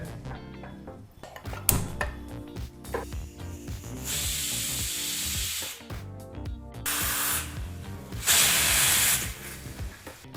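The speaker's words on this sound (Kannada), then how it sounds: "ಈಗಿಲ್ಲಿ ಕುಕ್ಕರು ಮೂರು ವಿಸಲ್ ಬಂದಾಯಿತು" A pressure cooker cooking moong dal with fenugreek leaves vents steam in two long, loud hissing whistles, one after the other, over quieter kitchen clatter.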